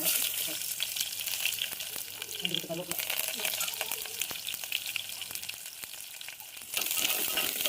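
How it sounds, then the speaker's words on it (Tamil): Mustard seeds, curry leaves and small shallots sauté in hot oil in a cooking pan, producing a constant close crackling sizzle with sharp popping clicks, swelling louder near the end. "இப்போ ஒரு சட்டியில் எண்ணெய் காஞ்சதும் கடுகு கருவேப்பில் சின்ன வெங்காயம் எல்லாம் போட்டு வதக்கிக்கலாம்"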